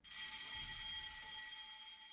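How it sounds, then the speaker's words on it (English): A building fire alarm rings as a steady, continuous high electronic tone, loud and unbroken throughout, with no voices. "When the emergency is confirmed, you will hear a second alarm, which will sound continuously"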